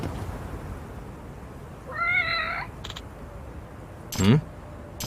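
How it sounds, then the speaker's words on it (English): A cat meows once in a brief, rising-falling call in the video game Lost Judgment, clear over a quiet hum, followed by a short sharp thump and a louder low knock. "That's the cat Takasa-sen's taking care of."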